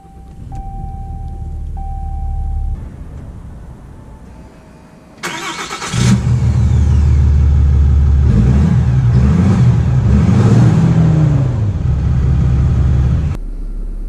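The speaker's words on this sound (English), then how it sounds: "let's take the 2500 Limited out to see how it drives." A 2019 Ram 2500 Limited Mega Cab pickup idles with a low rumble, then its engine starts up loudly and settles into a steady, heavy drone as the truck pulls away and drives on, with no talking over it.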